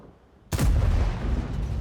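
A tank gun in a World of Tanks-style video game fires a single blind shot: a sudden loud, deep boom after half a second of quiet, then a long rumbling decay with no voices.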